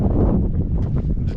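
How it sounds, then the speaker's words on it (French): Gusty wind buffeting at a high mountain pass on the route to Pic de Rochebrune, a brief, loud, low roar with rustling bursts and no speech. "Là, il y a un joli petit vent."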